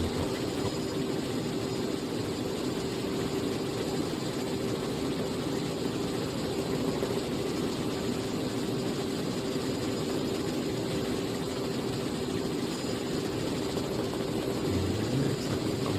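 A Robinson R44 helicopter flies on a student's first solo at Elstree, its rotor and engine making a steady, even drone with a constant hum that holds unchanged throughout, with no talk.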